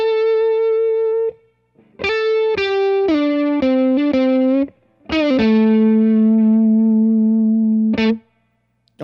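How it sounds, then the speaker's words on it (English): An electric guitar plays a short phrase of sustained single notes and slides through a Supro Delegate Custom amp with reverb about a third up, with a faint reverb trail after each pause. "This is reverb about a third of the way up."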